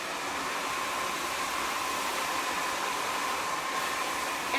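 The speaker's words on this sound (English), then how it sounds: "when you blow dry your hair that it's harder to run the brush through with the blow dryer" A blow dryer runs steadily while drying hair, a constant loud airy whoosh throughout with no voices.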